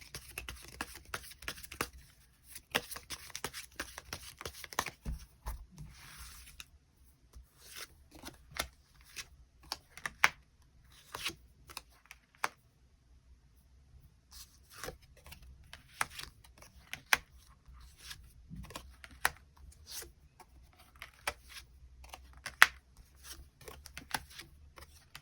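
Tarot cards are shuffled at length, close and dry, in bursts of rapid riffling and papery slaps with brief pauses between them.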